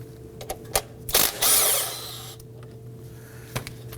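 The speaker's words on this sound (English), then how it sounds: "We're going to use our 14mm socket to remove this bolt." A 14mm socket backing out the brake hose bolt on a 2018-2024 Toyota Camry, with a few sharp metallic clicks and taps around a short, close burst of ratcheting rasp and a faint steady hum.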